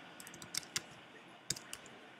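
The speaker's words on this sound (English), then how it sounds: "typing in something" A few soft, quiet keystrokes on a computer keyboard tap in short irregular clusters against a faint background hiss, with no talking.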